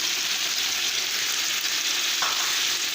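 Ginger garlic paste, turmeric and salt sizzle and fry steadily in a hot pan while being stirred together for bhindi, a continuous close hiss with a faint scrape near the end.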